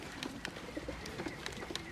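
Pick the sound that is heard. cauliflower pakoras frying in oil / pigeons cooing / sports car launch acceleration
pigeons cooing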